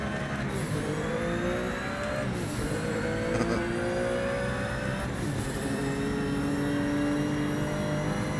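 A Porsche 992 race car engine in the Project Motor Racing video game drones steadily and loudly, with rising and falling pitch as it revs through gears across the whole stretch.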